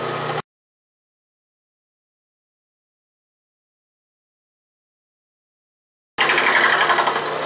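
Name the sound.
Atlas lathe milling attachment cutting steel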